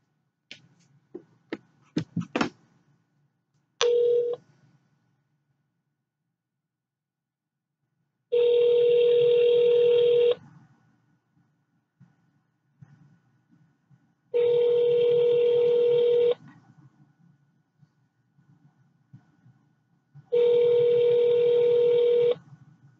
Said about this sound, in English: I'm about to call it. I'm gonna put it on speaker.